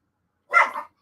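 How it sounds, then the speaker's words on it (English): A single sharp bark from a dog angered by another dog, close and loud, lasting under half a second in otherwise silent surroundings. "That was my dog getting pissed at mom's dog again."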